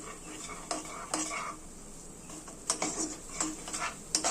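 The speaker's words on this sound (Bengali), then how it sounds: "কষিয়ে নিয়েছি ভালো করে মশলা।" Spice masala being fried and stirred in a pan for a fish-roe dhoka, with a quiet sizzle under repeated metal spoon scrapes and clinks against the pan in an uneven rhythm.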